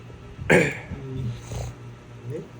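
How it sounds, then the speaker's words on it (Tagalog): A single sharp cough near the start, followed by low muffled voices and a steady background hum. "Inuubo tayo, guys."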